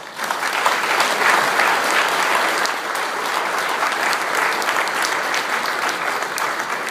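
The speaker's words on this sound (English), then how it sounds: "Once again, let's give them a round of applause." A large audience claps steadily and loudly, sustained applause filling the room from start to finish.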